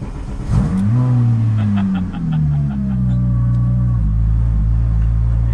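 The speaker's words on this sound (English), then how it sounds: "This is a 2000 model 996 Porsche Turbo, and it's been modified, and it's a bit loud." A modified 2000 Porsche 996 Turbo engine revs up loudly and close by, its tone climbing and then easing back into a heavy, sustained drone.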